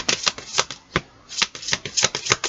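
Tarot cards shuffled and drawn for a horoscope reading, with quick, close riffling and snapping bursts in a fast uneven rhythm and no voice over them.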